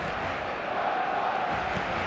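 Stadium crowd in an eFootball match, a steady wash of massed voices with a faint rising chant, held at an even level throughout.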